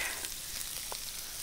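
Pork fat sizzling and frying in a pan outdoors, a steady close crackle with small pops, alone without talk.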